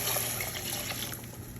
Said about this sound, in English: we're gonna deglaze our pot here with our white wine.